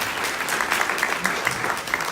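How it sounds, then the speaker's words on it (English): Audience at a student journalism awards ceremony applauding themselves, a steady wash of many hands clapping at moderate loudness for about two seconds with no talk over it. "applaud yourself"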